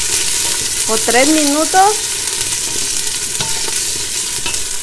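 Chopped onions sizzle steadily in a hot pan while chiles en vinagre are being made, a continuous bright hiss with a few scraping stirs, as a person speaks briefly over it.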